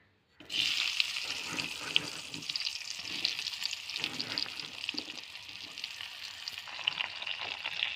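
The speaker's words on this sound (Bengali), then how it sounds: "কুলগুলোকে আমি এবার একটু নাড়াচাড়া করে নেব, কারণ বেশি ভাজলে হবে না।" Sun-dried jujubes sizzle steadily in hot oil in a wok, a dense crackling hiss with occasional scraping as they are stirred, close by.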